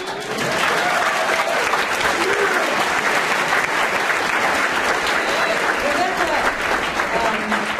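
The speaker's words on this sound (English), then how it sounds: "I think that warrants applause" Audience applause fills a voice actor panel at the Everfree NW convention, a loud, dense and steady round of clapping with a few voices and whoops mixed in that holds for nearly the whole stretch.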